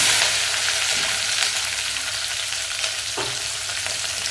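Three large onions with green chillies and curry leaves sizzle in a pan for chicken curry, a loud, steady crackling fry with a few stirring scrapes and no talking.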